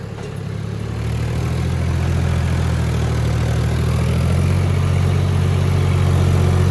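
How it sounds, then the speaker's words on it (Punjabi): A John Deere tractor engine runs steadily at full throttle, a loud continuous low rumble that builds slightly over the first seconds and then holds. "ਤੇਲ ਦੂਲ ਪੂਰਾ ਖੁੱਲ ਛੱਡ ਰਿਹਾ ਭੱਜਿਆ ਹੀ ਆਉਂਦਾ ਜਿਹੜਾ ਟਰੈਕਟਰ ਆ"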